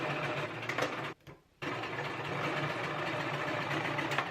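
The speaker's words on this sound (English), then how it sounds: "Next, I'm laying them good sides together and just sewing down the sides." A sewing machine stitches down the sides of two fabric pieces laid good sides together, a close, steady mechanical hum with rapid needle clatter, pausing briefly once before resuming.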